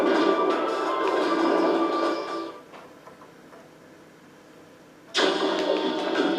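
Loud, steady, roaring jet-engine drone in the Smash Bros. Subspace Emissary video game cuts off partway through, leaving a quiet gap, then abruptly surges back at full volume.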